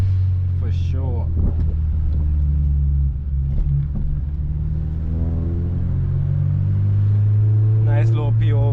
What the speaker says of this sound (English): Can hear the little exhaust.